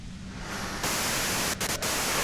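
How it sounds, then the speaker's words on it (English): Steady radio static hiss in the video game Disco Elysium, a loud, continuous wash of white noise that swells partway through and briefly dips twice, with no voices over it. "you can do it through the white noise"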